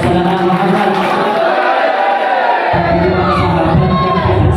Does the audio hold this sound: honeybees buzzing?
no